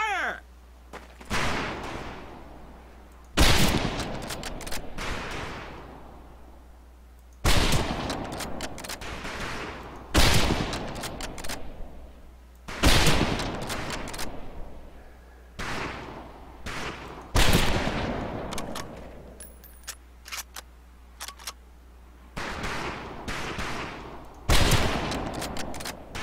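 Rifle fire at a shooting range in the Medal of Honor: Pacific Assault video game, loud shots fired repeatedly at irregular intervals, each followed by a short echoing tail.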